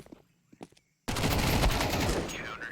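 Rapid automatic gunfire from a MAC-10 and an AK erupts in a Counter-Strike esports match, a loud continuous burst following a few faint clicks and brief near-silence.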